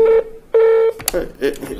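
Telephone call tones on a Tanzanian radio call-in line: two long, loud steady beeps separated by a short gap, followed by a brief clatter and a caller's voice.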